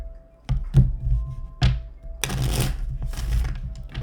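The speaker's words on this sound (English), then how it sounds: "we'll just give it a couple more shuffles here" Tarot cards get shuffled nearby: a few sharp taps as the deck is squared, then a long riffling flutter of cards, close and fairly loud, with no voice.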